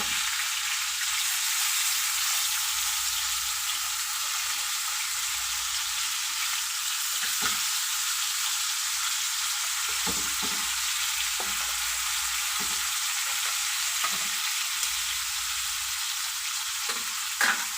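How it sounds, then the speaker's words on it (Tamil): Freshly line-caught fish frying in a pan on a stove, giving a steady, dense hiss of oil that runs continuously with a few soft knocks and shifts, close and moderately quiet, with no voices. "அடுப்பில் வச்சுட்டோம், கொஞ்சம் வேகட்டும் உறவுகளே. ஒரு பக்கம் வெந்திருச்சு"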